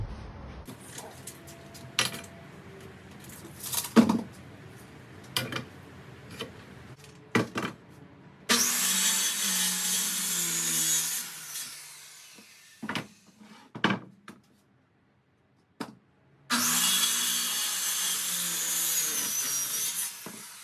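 A saw cuts pine lumber to length in a woodworking shop, two long loud rasping cuts separated by quiet stretches of wood knocks, clunks and handling noises.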